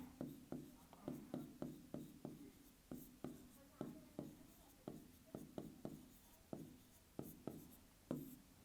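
Marker or chalk writing on a board during a Class 10 coordinate geometry maths lesson, a steady run of quick tapping and scratching strokes close by, with some faint speech in the background.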